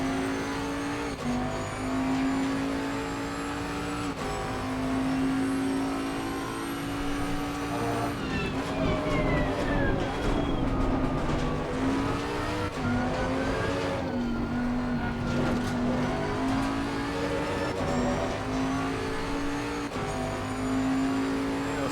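A Bentley GT3 race car at Imola in Assetto Corsa Competizione roars continuously, its engine pitch climbing through gears, dropping under braking and rising again across a full lap.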